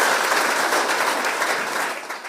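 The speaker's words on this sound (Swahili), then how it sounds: "Simpigie makofi" An audience at a Mwea prisons gathering applauds with a dense, steady wash of clapping that stays loud before fading slightly at the end.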